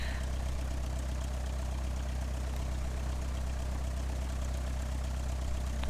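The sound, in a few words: Cessna 172 engine idling while taxiing, Flight Simulator X video game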